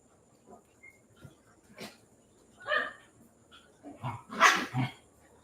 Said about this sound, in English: A little bit of doggy drama here